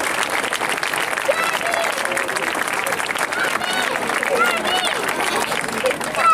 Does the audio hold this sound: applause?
yes